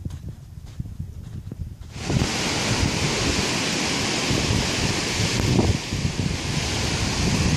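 Ocean surf rolls in on the beach at Torrey Pines after a quieter stretch of outdoor ambience. A broad, continuous wash of breaking waves swells up suddenly and stays loud, mixed with gusting wind.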